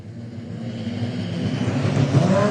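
Production sedan stock cars racing at Gympie Speedway, a steady pack of engines droning loud and near and building slightly as they pass, without commentary.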